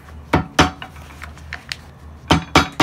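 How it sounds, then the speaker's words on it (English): Hammer striking the leather binding of a penny loafer at a bootmaker's bench, several sharp close knocks in irregular groups with short quiet gaps and lighter taps between. "So now I'm hammering the binding"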